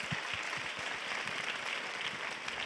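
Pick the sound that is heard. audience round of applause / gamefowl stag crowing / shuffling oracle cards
audience round of applause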